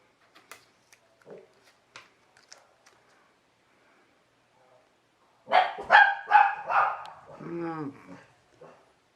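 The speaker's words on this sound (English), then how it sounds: "those dogs that are making all that racket" Several dogs bark in a short burst of loud, overlapping barks and yips after a quieter stretch of scattered faint sounds.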